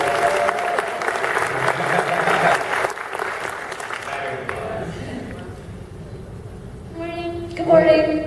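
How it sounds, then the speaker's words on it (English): A crowd applauds loudly for several seconds, the clapping fading out before a voice begins speaking at the end. "you should applaud them"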